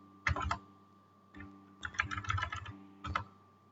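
A keyboard rattles out a command in short, close bursts of rapid key clicks separated by brief pauses, quiet and clear with no talking.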